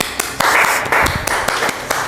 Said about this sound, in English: I'll give you applause for that thing.